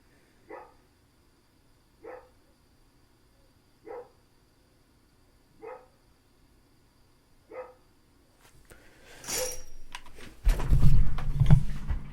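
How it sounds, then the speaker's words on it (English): A pet dog barks indoors in five short, evenly spaced single barks, moderately loud against quiet. Louder rustling and handling noise then takes over. "Why is my dog always barking?"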